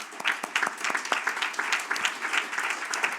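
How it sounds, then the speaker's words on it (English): A seminar audience claps for the staff, a short burst of moderately close, loosely rhythmic individual claps that stays fairly even across a few seconds. "I think that we should give a big applause also to the staff."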